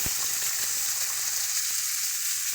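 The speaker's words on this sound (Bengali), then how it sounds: "এবারে দিয়ে দেবো এক এক করে আমরা আলু আর পুঁই মিটুলিটা আলু মিটলি দুটোকে একসঙ্গে আমি ভাজবো" Potato pieces and Malabar spinach seeds frying in hot oil with cumin, giving a steady, close sizzle with a few sharp pops at the start and no talking.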